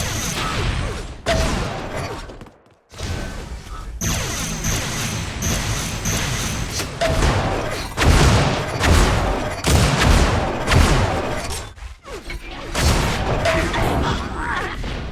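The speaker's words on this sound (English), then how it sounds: "Nice defensive rocket here by Tamer." Rocket launches and explosions in a competitive Unreal Tournament match, loud repeated blasts and crashing impacts in quick succession, with brief pauses between flurries.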